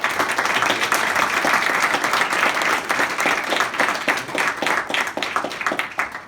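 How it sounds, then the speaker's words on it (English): An audience gives a round of applause at a sports team season gathering, loud dense clapping that holds strong, then thins and grows more uneven toward the end. "So everyone, please, round of applause."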